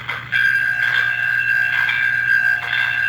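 An American Flyer model train's bell rings continuously in a fast, steady metallic clang, close and clear over a low mechanical hum.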